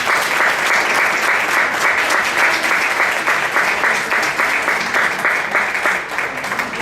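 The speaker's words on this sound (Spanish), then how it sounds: "todos nos merecemos, después de la toma de foto, un aplauso por esta jornada" Sustained, loud applause from the audience at a corporate annual event on risk management, filling the whole stretch with dense, steady clapping that eases slightly near the end.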